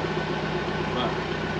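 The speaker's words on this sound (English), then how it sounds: "That is the sound of a running engine." A boat's engine runs steadily at a low, even idle, close and constant throughout with no other prominent sounds.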